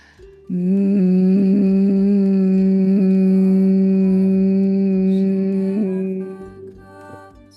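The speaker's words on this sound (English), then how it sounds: "like a hum from the bottom of your chest" A deep, steady hum held for several seconds, resonant and close, fading slightly at the end.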